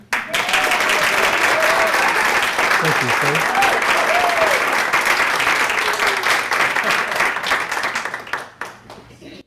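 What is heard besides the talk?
audience applause welcoming speaker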